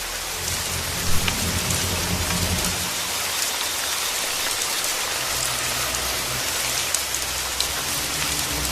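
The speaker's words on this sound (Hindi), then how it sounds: "केवल बारिश की बूंदों की आवाज।" Steady heavy rain falling at night, a dense continuous hiss of drops with low rumbling underneath, alone without voices.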